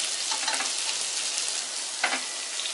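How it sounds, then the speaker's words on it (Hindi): Sliced onions with salt, turmeric and curry leaves sauté in hot oil, a dense bright sizzle with a couple of brief stirring scrapes, near and unaccompanied by speech. "प्याज सॉफ्ट हो जाए तब तक इसे भून लेते हैं।"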